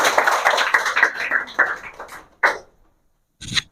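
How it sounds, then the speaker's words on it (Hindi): A classroom of students clapping, a dense burst of applause for about two and a half seconds that thins to a few last claps, then a short noise after a pause. "ताली तो कम से कम बजाओ"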